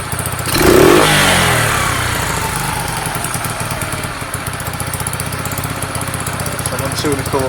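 A Sinnis SC125 motorcycle engine, idle screw being adjusted, rises in a sharp rev, hangs briefly at high pitch, then slowly sinks back to a steady, loud idle that runs on alone.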